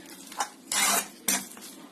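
Sweet vermicelli zarda (sevaiyan) is stirred in a metal pot: a light scrape, then two longer, louder scraping sweeps of a spoon against the pan, close by.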